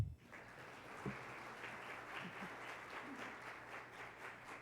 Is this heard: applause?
yes